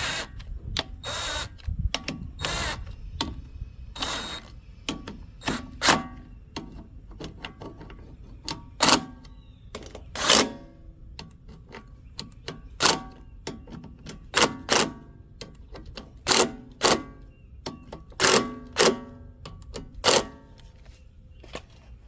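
Bolts being run down and tightened on a Honda HRX 217 lawn mower, heard as a steady series of sharp metallic clicks and ratcheting taps, close and fairly loud, with an irregular rhythm and no talking.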